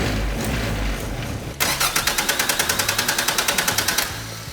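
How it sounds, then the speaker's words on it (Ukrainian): Car engine running partly on diesel mixed with leftover alcohol fuel, rumbling loud and rough, then shifting into a steady rapid knocking pulse about four per second for several seconds before it fades toward stalling. "Все, на дизель переключаєш, глох насправді."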